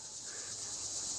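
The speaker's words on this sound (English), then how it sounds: "Fucking cicadas, shut up." Steady high-pitched insect buzzing, like cicadas droning continuously in the background, with no voices.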